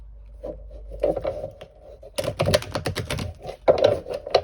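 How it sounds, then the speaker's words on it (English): Crisp riffling and flapping of cards being shuffled, in quick bursts of rapid snaps with brief pauses between them. "Do one last shuffle here."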